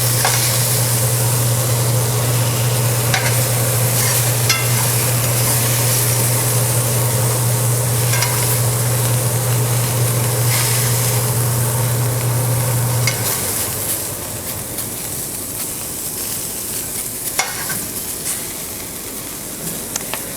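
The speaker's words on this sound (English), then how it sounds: "One last thing we're going to do for the ketogenic diet, stir fry." Vegetables stir-frying in melted butter in a pan for a high-fat ketogenic meal, a steady close sizzle and hiss with scraping stirs. A low hum runs under it for the first two-thirds and then drops away, leaving the frying slightly softer.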